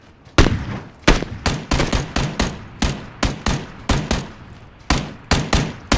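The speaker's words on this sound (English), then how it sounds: "Shots from behind." Rapid gunfire in PlayerUnknown's Battlegrounds, loud bursts of shots in irregular rhythm, about a dozen sharp reports over several seconds with no talk.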